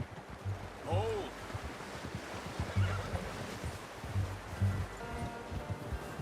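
A horse in Red Dead Redemption 2 lets out a short whinny amid soft hoof clops and rustling outdoor ambience, with spoken voices nearby.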